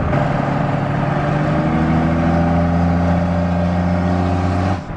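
A diesel truck with a VE pump, a big single turbo and a hoodstack exhaust, revving loud and close in a sustained deep drone that rises and holds for several seconds before dropping off at the end.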